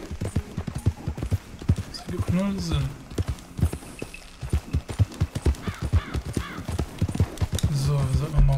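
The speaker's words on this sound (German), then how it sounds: "Pferd, warum reitest du so?" Horse hooves clip-clop in a rhythmic gallop in the video game Red Dead Redemption 2, close and regular, with a whinny and crow caws in the game's background and someone talking over it.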